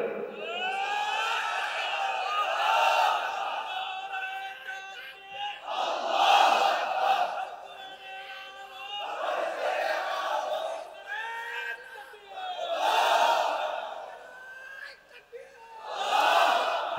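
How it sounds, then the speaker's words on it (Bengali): A large crowd at an Islamic tafsir gathering chants the takbir (Allahu Akbar) loudly, with full-throated shouts swelling in repeated waves every few seconds, one call answered by the mass response. "এবার জোরে একজনে তাকবীর দেন।"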